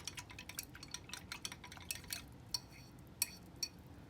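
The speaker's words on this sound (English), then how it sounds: "I'm just going to stir this with the end of a paintbrush" The end of a paintbrush stirs cyanotype solution in a small container, producing a quick run of light ticks and clinks against the side, with a few sharper taps near the end.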